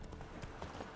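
Horse hooves clip-clop steadily in The Witcher 3, quiet and somewhat distant, in a game scene where horses are near a wyvern.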